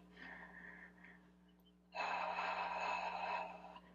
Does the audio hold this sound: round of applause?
no